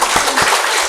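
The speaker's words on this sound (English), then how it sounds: "Let's give a round of applause to the speakers." Brief burst of applause from a crowd, steady clapping filling the short moment at moderate loudness.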